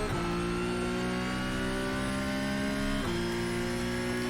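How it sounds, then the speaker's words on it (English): A Porsche Cup race car engine in iRacing at Watkins Glen screams at high revs, loud and continuous, with a sharp gear shift partway through and no voices. "Porsche Cup car sounds good as well"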